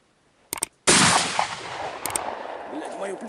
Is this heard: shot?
yes